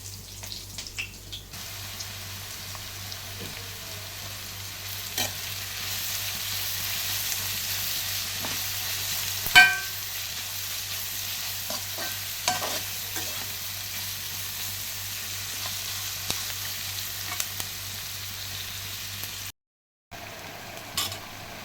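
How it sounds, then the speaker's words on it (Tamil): Curry ingredients for a kurbaan chukka sauté in a pan, giving a low steady sizzle with scattered clicks and spatula scrapes throughout, close but faint, ending in a brief silence. "நல்லா செவந்துச்சு, நல்லா வதங்கிடுச்சுங்க."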